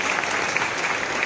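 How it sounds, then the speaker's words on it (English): A college function audience breaks into a brief burst of dense applause, with many hands clapping together in a continuous, fairly loud patter. "Can we have a huge round of applause for India and ISRO?"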